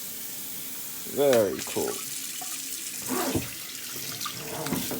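Water runs from a newly installed laundry faucet into the sink and down the drain, a steady close splash and gush under a person talking briefly.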